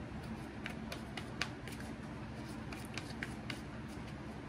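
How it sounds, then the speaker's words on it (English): Tarot cards being shuffled by hand, soft papery riffles and light taps close by and fairly quiet, without any talking. "Now I'm gonna start shuffling."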